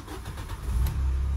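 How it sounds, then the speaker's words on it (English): A car engine cranks and catches, settling into a steady low idle that rises in loudness and stays close. "And the car still runs, starts up no problem."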